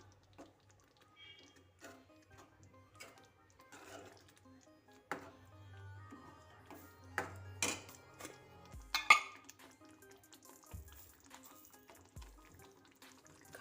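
Capsicum and onion curry mixed with yogurt in a pan brings sparse, quiet spoon scrapes and metal clinks against the vessel, spread out between near-silent gaps.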